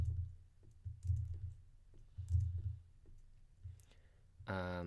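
Computer keyboard keys and a mouse click intermittently at a Pro Tools editing station, light irregular taps spread across the clip over a low background rumble, with a brief voice starting at the end.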